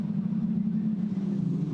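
Formula 4 race cars at Queensland Raceway sit revving on the grid before a race start, a steady low engine drone that holds even and loud.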